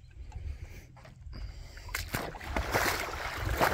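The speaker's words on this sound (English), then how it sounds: "the water's splashing up through the lower section" Tidal water sloshes and splashes nearby against a jetty, building from a low churning rumble into brighter, choppier bursts of spray toward the end.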